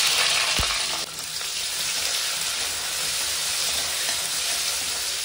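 Onion frying in hot oil with cumin and dried red chillies, a steady loud broadband sizzle throughout, with a brief sharp clatter near the start and no talking.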